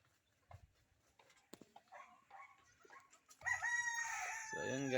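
Free-range chickens and roosters, including Dong Tao birds, cluck and call close by amid scattered rustling, then a rooster lets out a loud, sustained crow near the end; a dog barks faintly in the mix.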